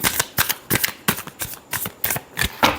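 Tarot cards being shuffled by hand, a rapid run of about eight crisp riffling bursts in quick rhythm, close and clear with no talk.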